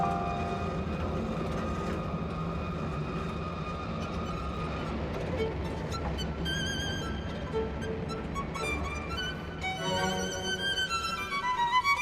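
A 1930s colonial-era train rounds a double-track curve in the Priangan region, a continuous low rumbling roar of wheels and rolling stock, steady and fairly close, with tonal squeals rising toward the end.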